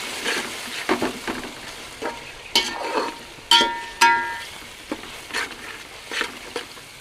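Masala fries in oil for a homemade egg dum biryani, giving a soft crackling sizzle with irregular scraping strokes and a few sharp metallic clinks of a spoon against the pan, and no talk.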